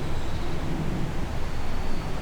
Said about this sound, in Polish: Słychać szum autostrady